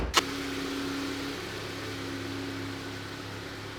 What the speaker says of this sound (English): Pull the CRV so Brian can pull in.